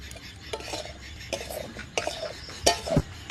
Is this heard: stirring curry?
yes